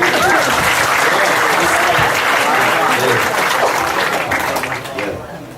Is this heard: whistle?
no